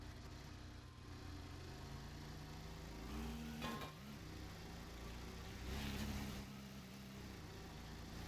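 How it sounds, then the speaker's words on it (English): A small one-cylinder go-kart style engine on a player-built vehicle in a video game, faint and steady, with two brief revs rising in pitch and easing back. "It even sounds like a little one cylinder go-kart version."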